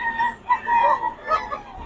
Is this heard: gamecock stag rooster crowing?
yes